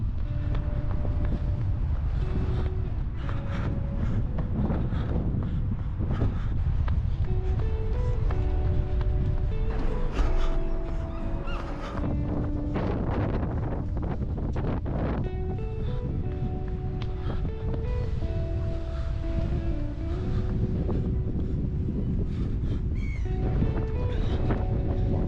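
Strong wind buffets and roars across the microphone continuously, a heavy low rumble with gusts, while faint tonal notes drift in and out underneath.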